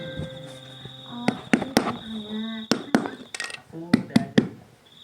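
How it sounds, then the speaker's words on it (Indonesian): A ripe young jackfruit is tapped by hand to test it, giving a series of short, dull knocks in quick bursts, close and fairly loud, with a voice talking around them. "Gori yang udah mateng itu bunyinya buk buk buk."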